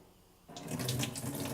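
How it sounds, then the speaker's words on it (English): Raw nuts rinsed under a running kitchen tap: after a short quiet start, water suddenly gushes and splashes steadily over the nuts, close and fairly loud, with no talking. "just get them wet again and rinse again"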